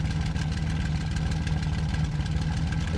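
Aircraft engine idling before takeoff with the radiator fully open and canopy closed, a steady low rumbling drone with a faint tonal hum, continuous and fairly close throughout.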